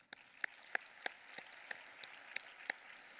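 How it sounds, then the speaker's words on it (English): Hands clap at a Kansas economic outlook conference, a thin, evenly spaced run of about ten crisp claps, sounding more like a small scattering than a full crowd. "Please join me in a round of applause to all the people who made this event so impactful"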